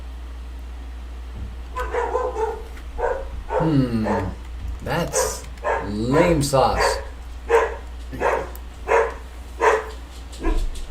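A pet dog barks in sharp, loud bursts close by, then settles into a run of evenly spaced barks, while a person talks over the start.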